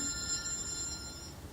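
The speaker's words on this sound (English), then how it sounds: "His phone will ring." A telephone rings steadily with a bright, sustained electronic tone over faint low background rumble, heard alone without any talking.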